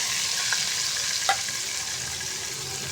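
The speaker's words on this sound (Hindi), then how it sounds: "अब इसी घी के अंदर मैं प्याज ऐड करूँगी।" Chopped onions frying in hot ghee give a steady, loud, hissing sizzle that holds even throughout, with a couple of faint stirring clicks.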